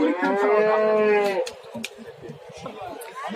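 At the Ozgon livestock market a cow lets out one long, loud moo close by, and then crowd chatter and talk take over.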